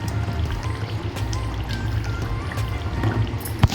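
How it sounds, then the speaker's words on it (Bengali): Raw oil poured into a simmering katla fish curry with poppy seed paste, a continuous close liquid pour and sizzle with a low bubbling rumble underneath and one brief knock near the end. "পোস্ত দিয়ে দিয়েছি আর সামান্য একটু কাঁচা তেল দেব।"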